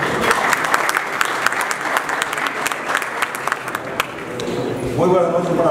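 Crowd applause welcoming a speaker at an Expo 2017 launch event in Paraguay, loud dense clapping with sharp individual claps that fades, then a voice begins speaking near the end.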